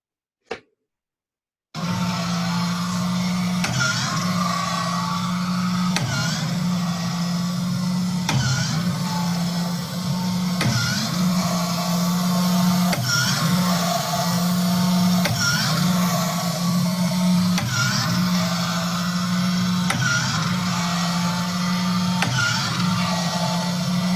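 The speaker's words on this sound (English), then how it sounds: "Here is the very first ventilator I built. The following video shows me testing it on our lab spirometer" A homemade ventilator runs on a lab spirometer, making a steady mechanical whir with soft, regular pulses every couple of seconds. It starts after a brief click and a pause.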